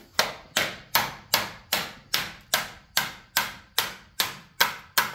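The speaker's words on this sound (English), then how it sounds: "I think I'm just going to grab a hammer here." A rapid, steady series of about a dozen sharp hammer blows knocking parts out of a 100 lb electric transformer, each ringing briefly before the next strike, close and loud.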